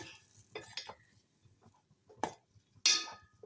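A spoon stirs cut mango in a bowl, making a few soft scraping strokes followed by two sharp, close clinks against the bowl.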